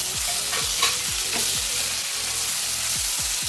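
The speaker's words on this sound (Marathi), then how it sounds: "सगळं एक मसाला एकदम छान भाजून घ्यायचा तेल सुटेपर्यंत" Masala of onion and tomato roasting in oil for Kolhapuri misal, with a steady sizzle broken by repeated scraping stirs of a spoon in the pan, close and continuous.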